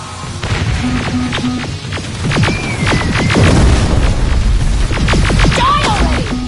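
A video game firefight: loud, close, booming blasts and sharp cracks overlap in a chaotic burst of explosions and gunfire, with no talk over it.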